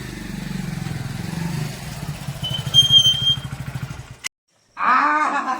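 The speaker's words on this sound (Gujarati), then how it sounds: "મોટરસાયકલ નો અવાજ આવે છે" A motorcycle engine runs nearby with a steady, pulsing low throb for about four seconds before cutting off abruptly, followed by a brief burst of other noise.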